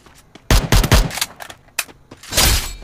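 A favourite gun in a video game fires in a few sharp, separated bursts, loud and close, with short pauses between volleys.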